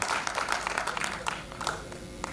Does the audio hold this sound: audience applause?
yes